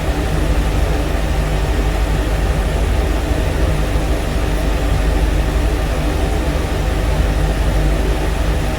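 Airbus H145 helicopter in Microsoft Flight Simulator VR, its engine and rotor giving a steady, loud, dense rumble with a broad whine that holds unchanged throughout, with no voices over it.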